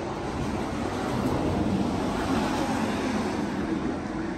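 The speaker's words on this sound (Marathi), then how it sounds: "गाड्यांचा खूप आवाज आहे कारण इकडे खाली मोठा हायवे आहे" Steady broadband roar of highway traffic passing below a bridge near a waterfall on a cold, rainy day, continuous and even, with wind buffeting the microphone and no voices.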